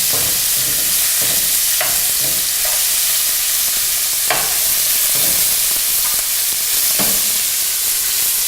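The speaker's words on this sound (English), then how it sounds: "we're going to quickly fry it in our hot pan" Pork fillet fries in a hot pan with a loud, steady sizzle, broken by a few scattered scrapes and pops as the meat is moved, and no voices.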